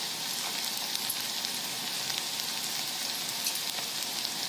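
Chopped carrot and vegetables saute in a kadhai for pulao, giving a steady, dense sizzle and crackle that runs close and unbroken throughout, with no talking.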